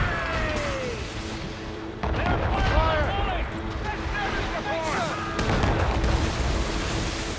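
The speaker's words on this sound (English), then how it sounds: "Keep the safe distance and use the mortars on her!" Mortar fire from a sailing ship during a naval battle in Assassin's Creed Rogue sounds as heavy, rumbling booms, with a loud blast partway through and another later. Shouting crew voices mix through the ongoing roar.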